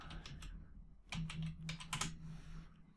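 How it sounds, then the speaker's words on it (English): Soft keystrokes on a computer keyboard come in short irregular bursts of quick taps with brief pauses between them, heard close and quiet over faint room hum. "let's type it out"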